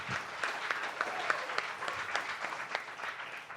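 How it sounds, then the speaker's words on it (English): Applause for the fabulous musicians at an event at Milestones Ranch Malibu: a steady, fairly dense round of clapping from an audience, holding evenly for several seconds with crisp individual claps poking through. "let's give them a big round of applause."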